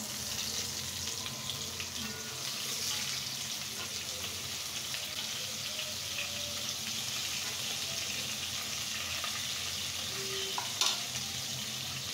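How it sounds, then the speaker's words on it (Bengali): Fish fries in a pan of hot oil with a steady, close, continuous sizzle throughout, plus a faint clink near the end; no one speaks. "আমি এখন মাছগুলাকে ফ্রাই করে নেব।"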